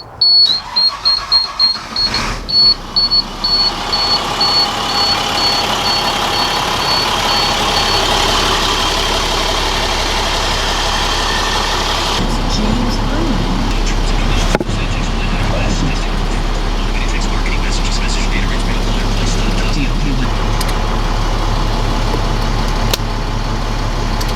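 The DT466E diesel engine of a 2000 International 4800 4x4 crane service truck idles and rumbles steadily, loud and close, with a rhythmic chugging at the start that settles into a constant drone.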